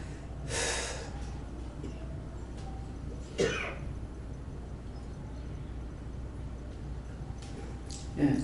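A few short coughs or throat-clearing bursts at a church prayer service, spaced apart over a faint steady background hum, one early, one in the middle and a last one near the end.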